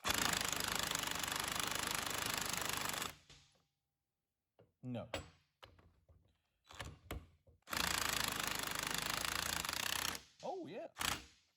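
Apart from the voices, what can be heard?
impact wrench on alternator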